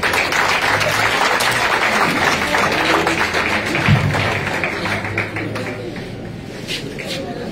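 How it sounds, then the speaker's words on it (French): Crowd applause at an outdoor presidential election rally in Guiberoua, Gagnoa, a dense, continuous wash of clapping and crowd noise that holds steady and eases slightly in the later seconds. "l'acclamation n'est pas à la hauteur de son intervention"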